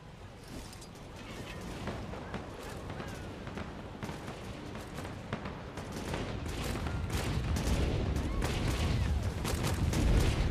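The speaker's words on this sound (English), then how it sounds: "Fireworks." Rapid fireworks crackle and pop continuously in the video game Guild Wars 2, building denser and louder toward the end, a steady barrage of bursts with no talking.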